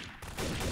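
Gunfire in the Trouble in Terrorist Town video game, a sudden burst of rapid shots cutting in partway through and continuing loudly to the end, with no talk.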